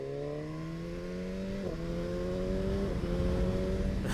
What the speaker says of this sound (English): There's that quick shifter.